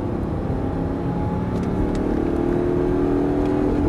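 An Audi R8 accelerates on a race track at Dreux, its engine droning steadily with a slowly rising pitch, heard from inside the car without talk.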